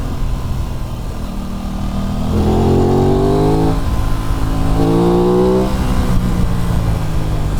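A 2023/24 Aprilia RS 660 motorcycle revving while being ridden, the engine note climbing in two distinct rising pulls between steadier cruising, close and loud over wind noise.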